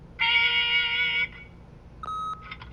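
An answering machine gives a long steady electronic tone, followed after a pause by shorter, quieter beeps. The setting is quiet and there is no talk.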